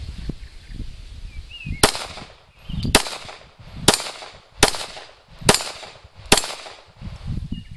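Six sharp pistol shots at a steel target about 12 yards off using 10X ammunition, each crack ringing out separately with roughly a second between them, outdoors and with no talking.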